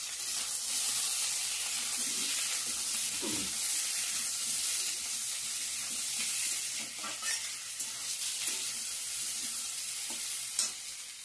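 Potatoes, tomatoes and other vegetables sizzle and fry steadily in a pan for an egg curry, with a continuous hiss and occasional stirring scrapes close by; no one speaks.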